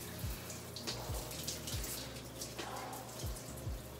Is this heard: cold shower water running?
yes